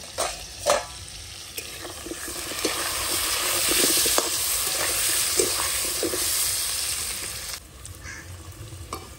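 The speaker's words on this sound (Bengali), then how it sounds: "লবণ হলুদ দিয়ে আলুটা ভেজে নেব।" Potatoes frying in a pan with salt and turmeric for a home-style picnic meat curry, a steady close sizzle with occasional stirring clicks and scrapes, louder through the middle before easing off near the end.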